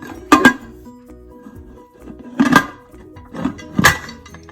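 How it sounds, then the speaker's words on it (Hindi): Three sharp metallic clanks of a pressure cooker lid being handled and set in place over cooking lentils, spaced a second or two apart, close and fairly loud. "प्रेशर कुकर का ढक्कन लगा के और इसके ऊपर वेट डालना है"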